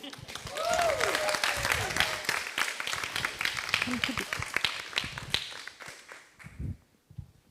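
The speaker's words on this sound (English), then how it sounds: "They deserve a very large applause" Audience applause for performers at a Pride PechaKucha night, a room of steady, moderately loud clapping that gradually thins and trails off into scattered claps and voices.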